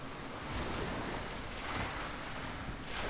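Steady wash of ocean surf breaking on a shore in the video game Hellblade: Senua's Sacrifice, a continuous broadband roar with gentle swells and no voices.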